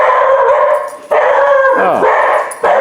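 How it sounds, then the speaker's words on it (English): A guard dog near a motorcycle workshop lets out three loud, close barks and howling whines. Each one is drawn out and sags in pitch at the end, with short pauses between them. "Oh, guard dog."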